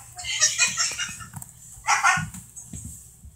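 A protective dog barking in a burst of loud, harsh barks and yips at close range, then a second sharp volley after a brief pause, with quieter sounds trailing off.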